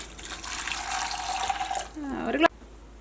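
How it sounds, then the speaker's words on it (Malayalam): Water pours steadily into a pot with a rising, filling gurgle, then stops with a brief clunk; close and fairly quiet. "അപ്പോൾ അതിലേക്ക് നമുക്ക് 1 ഗ്ലാസ് വെള്ളം ചേർക്കാം."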